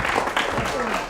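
Audience applause breaks out at a school event at SMK Muhammadiyah 3 Palembang, a brief dense burst of clapping from a crowd with voices mixed in.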